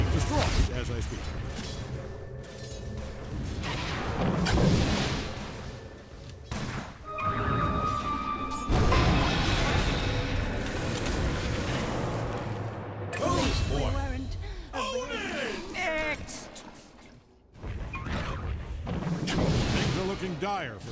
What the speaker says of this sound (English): The way it's being destroyed as I speak.